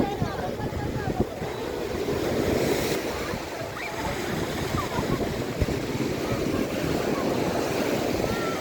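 Ocean waves break steadily on a beach at Moorkkam Beach Point during a crowded New Year celebration, a continuous loud wash of surf mixed with wind noise on the microphone and faint voices in the background.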